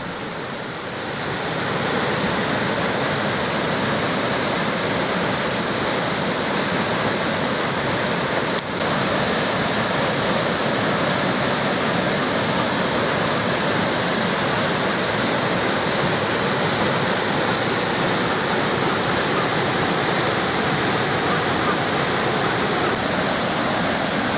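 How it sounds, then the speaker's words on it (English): A picturesque waterfall near Fort Augustus in Scotland's Great Glen pours in a steady, loud, unbroken roar of rushing water that holds constant throughout, with no voices over it. "And to finish off, a picturesque waterfall."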